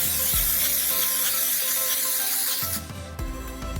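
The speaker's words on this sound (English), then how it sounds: "Now we can spray our non-stick cooking spray on." Non-stick cooking spray hisses from an aerosol can onto a baking pan in a kitchen, in bursts with short breaks between them, close and fairly loud.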